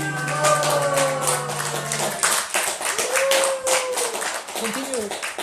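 Students clap their hands in a sharp, repeated rhythm of close, distinct claps, with singing and chanting voices over the clapping throughout.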